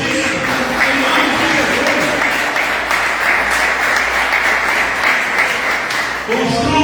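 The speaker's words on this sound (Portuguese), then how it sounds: "Então aplauda o nome do Altíssimo" A church congregation applauds, a sustained dense wash of clapping lasting several seconds at steady loudness, with voices mixed in underneath.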